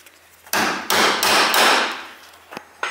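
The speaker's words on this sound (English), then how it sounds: "as my dad's right here hammering that thing out" Several loud, sharp metal hammer strikes on a Nissan 350Z subframe at uneven intervals, each ringing briefly before the next blow, close by.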